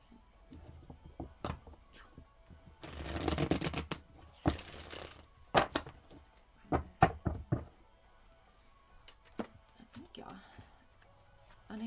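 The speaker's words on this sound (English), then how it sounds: "I'm sick of shuffling." Soft tarot card shuffling and riffling, with scattered taps and rustles and a burst of papery flutter, while a person talks quietly at times.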